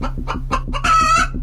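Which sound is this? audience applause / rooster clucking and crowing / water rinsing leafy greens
rooster clucking and crowing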